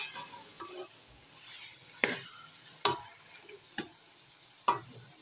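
Grated carrots for gajar ka halwa are roasted and stirred in a pan: a low, soft sizzle with four or five sharp spoon scrapes and knocks against the pan, close and spaced a second or so apart.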